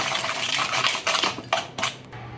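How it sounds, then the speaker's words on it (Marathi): Pea-peel puri ingredients are mixed by hand in a bowl, making close, uneven bursts of moist rustling and light clinks against the bowl, with no speech. "आता आपण हे सगळं मिक्स करूया व्यवस्थित."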